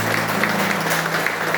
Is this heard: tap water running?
no